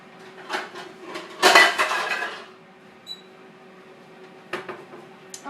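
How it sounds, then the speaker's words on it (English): A metal bread pan clatters as it is grabbed in a home kitchen, with a loud burst of clanking and scraping in the middle and a few lighter knocks afterward, no talk. "And let me grab my bread pan real quick."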